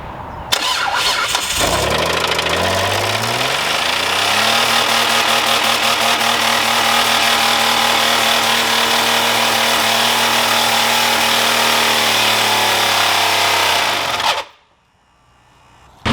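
A Triumph car engine with no oil fires up after a brief crank, then surges to a loud, steady wide-open-throttle roar held by a fast idle stick before cutting off abruptly into silence.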